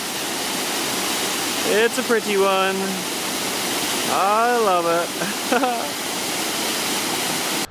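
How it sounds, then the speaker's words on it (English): Steady rushing water from Egypt Falls in Nova Scotia roars close by as a continuous broadband wash, with a person speaking briefly over it. "a bit further up the river, we get to the waterfall"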